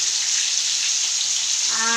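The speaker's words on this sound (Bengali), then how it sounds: "আর এই আমি পেঁয়াজগুলো দিয়ে দিচ্ছি," Onions sizzle steadily in hot oil, browning into birista for biryani, a dense, crackling hiss at a constant level, up close and alone.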